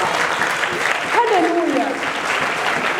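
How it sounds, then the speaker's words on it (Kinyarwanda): A church audience breaks into loud, dense clapping that holds steady throughout, with a voice talking over it. "mukomera amashyi cyane"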